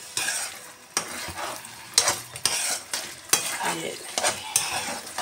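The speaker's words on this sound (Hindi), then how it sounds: "अब मैंने इसको अच्छे से इसमें मिक्स करना है और 2 से 3 मिनट के लिए हाई फ्लेम पे मैंने इसको पका लेना है" Deep-fried eggplant and potato stir-fried on high flame, with a spatula scraping and clanking against the pan in repeated strokes over a steady close sizzle.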